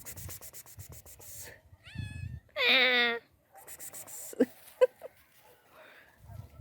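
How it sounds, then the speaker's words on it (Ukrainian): A cat in a vegetable garden in December lets out a loud, drawn-out meow close by, with shorter calls around it, soft rustling and a few sharp knocks in between. "О, опять кицька прийшла."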